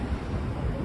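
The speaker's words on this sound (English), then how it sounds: "I'm already feeling the wind start to pick up" Wind blowing beside the Hudson River in New York, a steady broadband rushing that buffets the microphone with low rumbling gusts and no voices.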